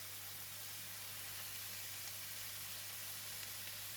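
Minced pork, shiitake mushrooms and mixed vegetables stir-fried for fried rice produce a steady, dense sizzle that holds evenly at moderate loudness throughout, with no voices over it.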